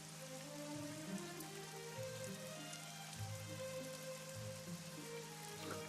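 Steady rain falls in a scene from the video game AI: The Somnium Files, a dense, even patter of drops on a surface, continuous and moderately loud, with soft low music tones underneath.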